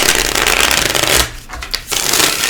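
Tarot cards being shuffled with a dense papery riffle and rub, close up, pausing briefly midway before the shuffling resumes.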